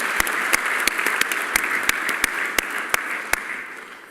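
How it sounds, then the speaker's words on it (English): Audience applause at the ACSA Feather Awards 2017 event at O R Tambo: a dense, steady wash of clapping with sharp individual claps standing out, close and fairly loud, tapering off toward the end. "you and your team deserve another round of applause"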